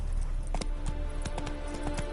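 Video-game horse hooves clip-clop in a quick, even rhythm as the mount moves along, crisp close hoof strikes repeating through the whole moment with no voices.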